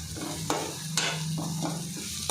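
Diced potatoes and onions sizzle steadily in a hot pan while a spoon scrapes and stirs through them in several distinct strokes, close and fairly loud.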